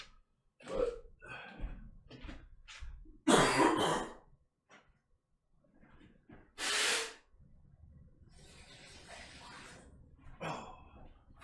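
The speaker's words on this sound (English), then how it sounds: "I need to blow my nose" One person blows their nose in two loud, forceful bursts, close to the microphone, among smaller sniffs and throat noises and quiet gaps.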